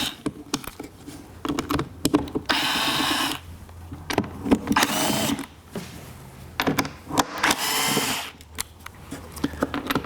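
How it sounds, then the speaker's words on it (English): An electric tool zips out the Torx screws on the air filter cover of a 1996–2006 Mercedes-Benz in several loud, close bursts of whirring, with rattling handling noises between them. "So I'm going to remove these Torx bit screws."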